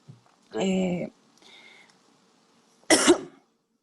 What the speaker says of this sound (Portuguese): tipo um ataque de tosse